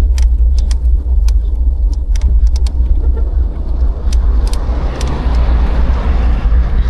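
A car rumbles past on a road toward Caliraya Lake in Laguna, a steady low engine drone that swells toward the end, with small clicks and rattles on top and no talk.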